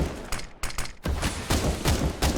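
Rapid automatic weapon fire in the video game CS:GO, dense loud bursts of shots in quick succession with brief gaps between volleys, close and sharp throughout.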